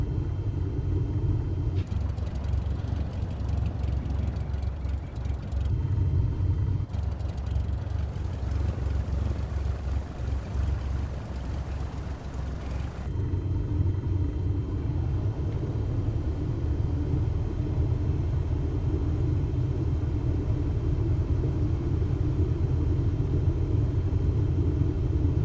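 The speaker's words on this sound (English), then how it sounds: "Pleasant little hum of the engine here. The 172." Steady, low droning engine hum of a simulated Cessna 172 in Microsoft Flight Simulator 2024, continuous and even throughout, with a brief rougher, noisier stretch early on before settling back into the smooth drone.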